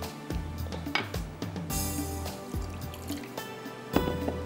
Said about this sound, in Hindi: तो यहाँ पर मैं लेती हूँ थोड़ा सा पानी